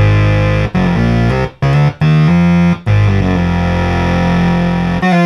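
A modified Moog/Realistic MG-1 synthesizer plays rich, buzzy, heavily saturated tones, changing notes in short phrases with brief gaps and then holding a long sustained sound, loud and alone.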